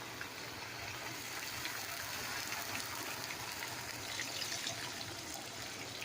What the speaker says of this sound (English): let's go ahead on and add our water